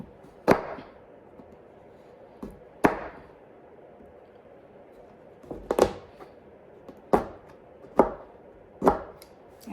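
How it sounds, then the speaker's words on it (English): A knife chops food on a cutting board during pie-making, with sharp, isolated thunks spaced irregularly a second or more apart, close and fairly loud against a quiet room. "The chopping is done."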